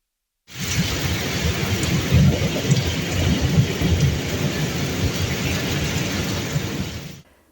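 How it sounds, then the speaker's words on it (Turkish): Heavy night rain pours steadily in Elazığ, Turkey, during a thunderstorm with repeated lightning, while deep rumbles of thunder swell and roll beneath the constant downpour from start to finish. "Elazığ'da gece yağmurun başlamasıyla birlikte peş peşe şimşekler çakmaya başladı"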